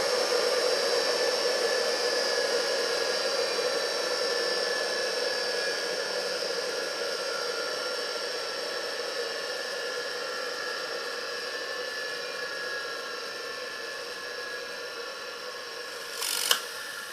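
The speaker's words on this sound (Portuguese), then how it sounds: "escuta agora o barulho quando o relé desarmar" A single-phase 2 HP motor holds a steady whining hum, then near the end its relay trips with one brief, sharp click.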